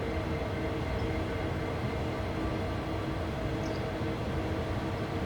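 A train in Train Sim World 2, slowed on traction drive rather than air brakes, rolls with a continuous low rumble and steady wheel noise, unbroken for the whole stretch.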